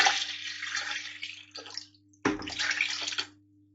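Water pours steadily into a large soup pot for homemade chicken noodle soup, a running splash that stops briefly and then resumes with another strong pour before trailing off, with no talking.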